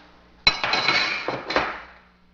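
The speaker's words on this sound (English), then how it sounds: "You can push that in and remove this receiver cover." Metal parts of an AK-47 rifle clack and clink as the receiver cover is pushed free and the recoil spring removed during a field strip, a sharp close knock followed by a few lighter rattling taps, with no talking.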